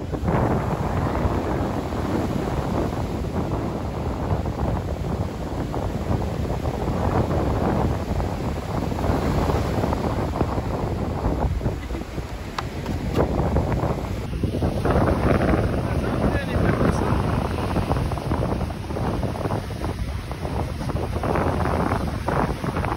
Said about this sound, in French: Il y a beaucoup de vent aussi, d'ailleurs, comme une mini tempête de sable.